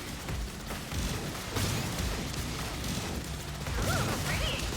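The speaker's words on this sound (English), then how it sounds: "Ooh, pretty explosion." Crashing, booming bursts of a sci-fi explosion from the video game Subverse rise over a dense, steady wash of game noise. A louder blast hits near the end, with no talking.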